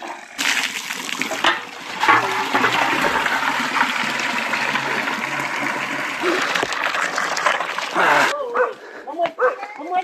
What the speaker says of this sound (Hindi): भर लेते हैं पानी